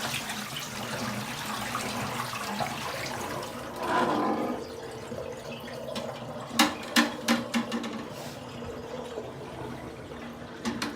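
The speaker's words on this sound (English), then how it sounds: "And I just dump out all the dirty aquarium water." Dirty water from cleaning an Aquatop aquarium filter is dumped out, a continuous splashing pour that surges midway, followed by a few sharp knocks and clatters.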